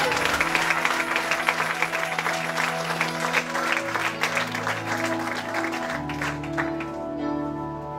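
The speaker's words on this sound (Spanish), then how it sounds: "Denle un aplauso al Señor." Church congregation clapping during a worship service at a temple inauguration, sustained mass applause with organ or keyboard chords sounding underneath, fading toward the end.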